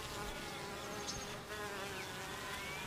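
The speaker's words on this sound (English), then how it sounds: "The most important species to humans is Apis mellifera," Honeybees (Apis mellifera) buzz steadily around the microphone, a dense droning hum with occasional louder passes close by.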